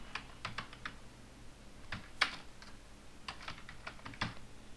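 Keys clatter on a computer keyboard in short irregular bursts while entering a contact number into a web form, close and moderately loud, with no voices.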